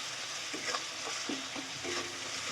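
Masala for veg ghugni sautéing in a pan, a steady hiss of frying with a few soft scrapes of the stirring spoon, close and moderately loud.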